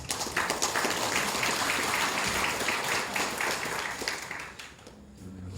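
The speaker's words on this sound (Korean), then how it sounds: "이원웅 도의원 한번 박수 한번 주시죠." A crowd applauding steadily at a Saemaul Undong workshop in Pocheon, South Korea, dense clapping sustained for several seconds before tapering off slightly at the end.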